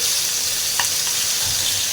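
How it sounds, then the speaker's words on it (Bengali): Steady, dense sizzling of fish frying in a hot pan, continuous crackle throughout with a brief clink partway through. "এক চোলায় কিন্তু মাছ ভাজা দিয়ে দিচ্ছি আমি"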